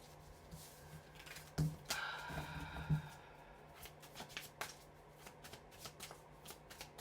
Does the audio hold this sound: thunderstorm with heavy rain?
no